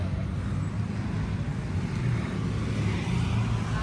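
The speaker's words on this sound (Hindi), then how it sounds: "आवाज़ सुनते गोरिल्ला 450 की।" Royal Enfield Guerrilla 450 motorcycle engine running close by, a steady, low, loud rumble held throughout with no talk over it.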